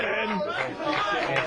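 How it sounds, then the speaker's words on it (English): Studio crowd chattering in a busy talk-radio room, a dense continuous murmur of many voices filling the background at steady loudness. "Listen to the effing crowd."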